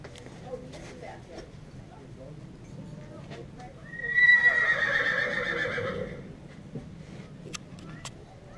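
A horse whinnies loudly for a couple of seconds over quiet background chatter, with faint hoof clops scattered around it.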